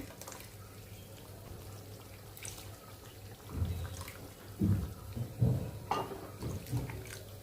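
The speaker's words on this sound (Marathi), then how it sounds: "आता यामध्ये मी पाणी घालून घेते." Water poured into a pot of sambar, a quiet splashing and gurgling pour that grows louder partway through, with faint kitchen clatter and no talking.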